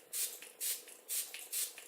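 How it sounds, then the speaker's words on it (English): Small 20 ml mist spray bottle of purified water squirting in four quick, evenly spaced hissing bursts, close up and alone. "Just my little mist spray bottle."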